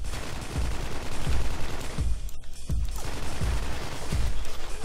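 Dense automatic gunfire in the video game Special Forces 2, with steady bursts of shots and heavy low thumps recurring about every second, loud and continuous with a brief thinner gap midway.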